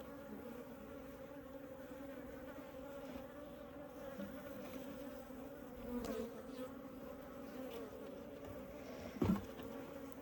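Steady, low buzzing of honey bees from a weak colony fills the clip, a continuous drone at close range with no voices.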